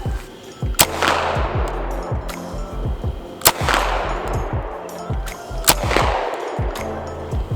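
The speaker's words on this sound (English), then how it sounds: "Now let's try rocking some 50-yard shots" UZI PRO pistol firing at a 50-yard target outdoors: three loud, sharp shots spaced a few seconds apart, each with a booming echo that trails off, with faint handling noise in between.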